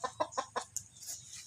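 A hen clucks four times in quick succession, close by, followed by a couple of higher squawky notes.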